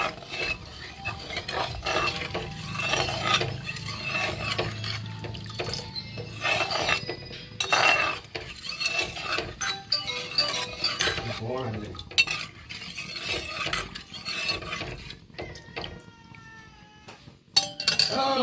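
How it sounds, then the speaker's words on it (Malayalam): A spoon scrapes and clinks against a pot in irregular stirring strokes as fish curry is stirred after water is added, with liquid sloshing and a meowing cat joining near the end. "ആവശ്യത്തിന് വെള്ളം ഒഴിച്ചു കൊടുത്ത് നല്ലതായിട്ടൊന്ന് ഇളക്കി എടുക്കാം"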